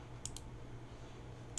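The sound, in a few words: clicking while playing Pokemon TCG Online on computer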